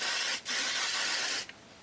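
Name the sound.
spray bottle spraying product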